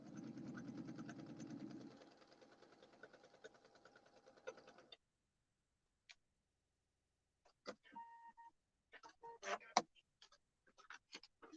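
A sewing machine runs a short steady stitching burst on a foundation paper pieced quilt block, quiet and close, then stops, followed by faint scattered clicks and handling noises.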